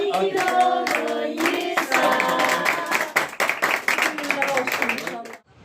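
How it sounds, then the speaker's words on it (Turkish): Hand clapping at a birthday celebration for Esra, a few people clapping in quick rhythm close by while voices sing and talk over it, ending abruptly. "Alkış."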